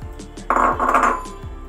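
Dry rice tipped into a pot of boiling water, giving a short burst of pattering grains and metallic clinks against the pot, loud and close, then a few softer scrapes as it settles.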